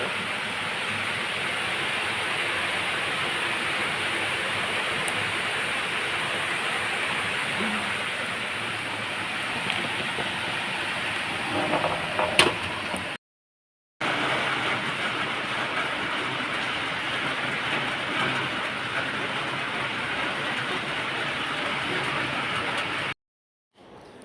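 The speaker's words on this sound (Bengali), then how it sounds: "বৃষ্টি পড়ছে" Steady heavy rain pours down in a constant, loud hiss that fills the whole scene, broken by two brief dropouts.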